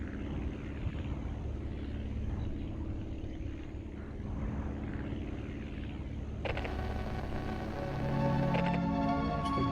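Propeller airplane flying in the game Aviassembly, a steady droning engine hum that shifts and grows slightly louder with added tonal game sounds toward the end.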